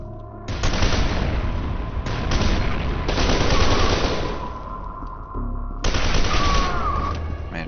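Dense bursts of automatic gunfire from the shooter game FEAR 2, loud sustained volleys broken by short pauses, alone without talk.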